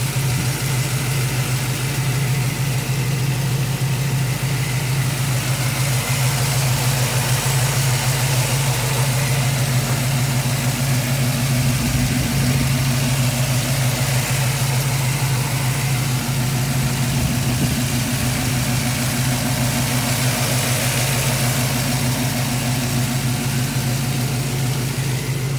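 A 1937 Ford all-steel two-door coupe with a GM ZZ-4 340 hp V8 idles smoothly, a steady, even low rumble held close for the whole stretch, with no speech over it.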